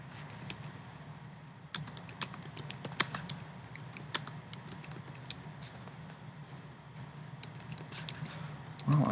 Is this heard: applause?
no